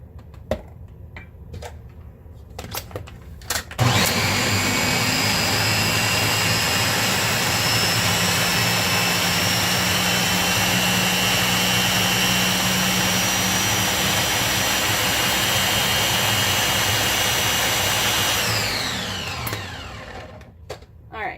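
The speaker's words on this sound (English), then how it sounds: "depending on the size and power of your blender, this might take less time, more time" A blender blends walnuts for a paleo key lime pie, starting abruptly and roaring loudly and steadily for about fifteen seconds before winding down, with faint clicks before and after.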